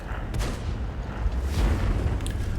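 Tank cannon shot striking a screen in World of Tanks, a dense booming blast that fills the whole clip with rumbling low-end impact and crackling debris, loud and close with no voices.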